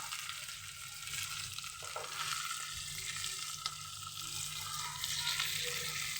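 Shrimp, potatoes and flat beans fry in a pan, giving a soft, continuous sizzle with occasional stirring scrapes, fairly quiet and close, without talk.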